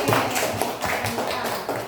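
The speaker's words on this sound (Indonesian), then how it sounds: "Tepuk tangan semuanya" A classroom group claps together on the teacher's cue, a short, fairly close patter of many hands with a few louder taps.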